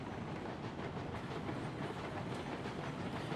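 A train in the video game Railroads Online rolls along the rails with a steady, moderately faint rumble and a continuous rattle, heard alone with no talk.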